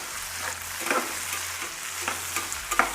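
Cut potatoes stir-fried in oil in a pan while cooking red rice biryani, with a steady soft sizzle under a few scraping stirs of a utensil, close and alone without talk.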